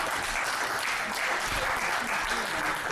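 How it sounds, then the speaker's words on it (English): Spectators at a 10-ball pool match between Dennis Orcollo and Shane Van Boening at the 2018 West Coast Challenge clap in a dense, steady burst of applause, with some voices mixed in. "Pool claps."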